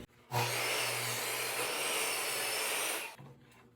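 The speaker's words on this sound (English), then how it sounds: "First I gotta cut it in half because I need one for both sides." A saw cuts through a PVC piece during shelf building, giving one close, continuous rasping burst of about three seconds that stops abruptly, with quiet moments before and after.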